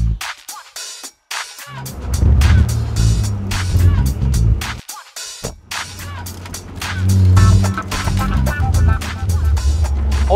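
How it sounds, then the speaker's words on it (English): A 2021 Morgan Plus Six sports car drives on a road in Singapore, its engine rumbling loud and close with a steady low drone, rising after brief quiet gaps. "Let's go see how the car drives"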